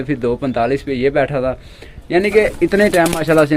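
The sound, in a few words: pigeons cooing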